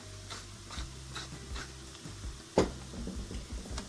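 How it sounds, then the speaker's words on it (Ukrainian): Chopped onions fry gently in a pan while being stirred, giving a soft, steady sizzle with light scraping strokes and one sharper clack of the utensil partway through. "Цибульку обсмажуємо, щоб вона не хрустіла і була прозорою."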